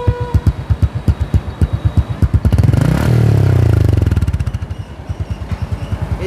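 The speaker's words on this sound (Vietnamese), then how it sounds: "Nó đang nổ máy ở trên này không nghi gì nha mọi người." A Honda Future Neo motorcycle engine idles close by with a steady putter of rapid pulses, swelling into a brief louder rev in the middle before settling back to an even idle.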